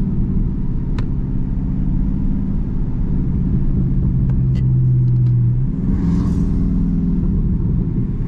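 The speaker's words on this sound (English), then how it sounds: "Nice little downshift right there." Dodge Charger Daytona 392 V8 engine rumbling loud and close while driving in traffic, with a pitch shift partway through as the driver downshifts using the paddle shifters.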